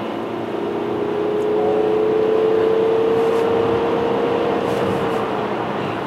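Kia Sorento accelerating smoothly, a close steady engine and road roar with a rising, sustained whine through the middle, no speech.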